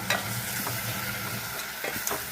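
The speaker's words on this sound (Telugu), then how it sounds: "ఇప్పుడు కొంచెం అల్లం చిన్నులపాయ పేస్ట్ వేసుకోండి" Ginger-garlic paste drops into a pan of sizzling tomato and drumstick curry, giving a steady close frying hiss with a few soft stirring scrapes and small bursts of crackle.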